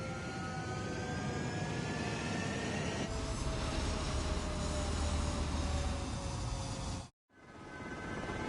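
Military jet aircraft roar down the runway for takeoff in a combat flight video game, a loud sustained engine whine with rising tones that swells midway, then cuts out briefly before resuming.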